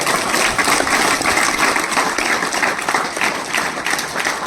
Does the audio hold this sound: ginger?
no